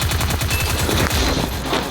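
Rapid bursts of automatic gunfire in Free Fire rattle continuously, loud and close, with repeated rhythmic volleys and no talking.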